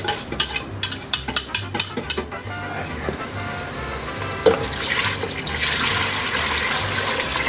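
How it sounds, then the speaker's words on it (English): A spoon scrapes and taps rhythmically around a pot while stirring enchilada sauce, followed by a rising rush of liquid noise. "Stir it in good."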